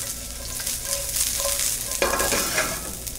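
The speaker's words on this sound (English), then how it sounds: "we're going to start out with some red pearl onions. We're going to saute these off." Red pearl onions sauté in a pan with a close, steady sizzle, while a utensil stirs and scrapes against the pan in short bursts.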